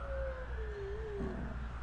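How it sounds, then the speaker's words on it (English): Bruce the dog lets out a long, faint, wavering howl that slowly falls in pitch over a low background rumble, heard at a distance. "Oh, he howls."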